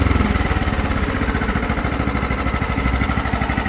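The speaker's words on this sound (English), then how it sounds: "a fun little mower to run around with." A John Deere STX38 riding lawn mower engine runs steadily nearby, a loud, even small-engine chug with a rapid regular pulse and no voices.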